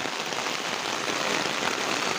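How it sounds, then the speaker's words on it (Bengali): Steady rain patters down, a dense even hiss of drops hitting the ground nearby with no voices. "দেখ কি বৃষ্টি"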